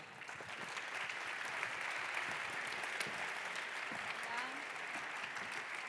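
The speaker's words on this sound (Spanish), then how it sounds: "Un aplauso para ella" Steady audience applause fills the room at a Spanish-language talk on news reporting, many hands clapping continuously at moderate distance with faint voices underneath.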